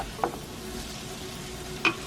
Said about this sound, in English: while that's sauteing